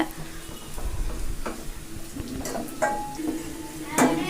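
Ingredients for a chili fish curry sautéing in a pan, with a hissing sizzle and a few scraping stirs and utensil clinks against the pan, close by, with some speech mixed in.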